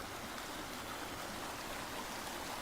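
A creek flows steadily, a dense, even wash of running water heard close and unbroken, with no voices over it.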